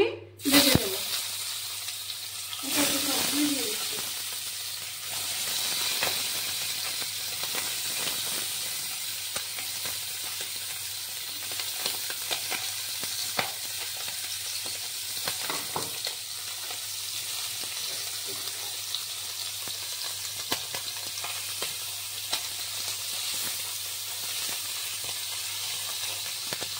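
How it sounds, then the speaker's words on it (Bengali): Tangra fish frying in hot mustard oil, a continuous broadband sizzle and hiss that stays steady throughout, with a few louder spits and crackles near the start. "তেল গরম হয়ে গেল, এবার মাছগুলি আমি ভেজে নেব।"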